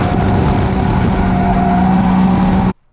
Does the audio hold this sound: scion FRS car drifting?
yes